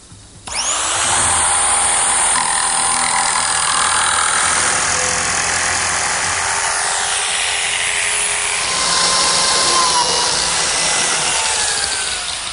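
A biscuit joiner cuts slots into plywood for a tall pine clock, a loud, steady high-pitched whine of the spinning blade lasting about twelve seconds without pause, with no talking.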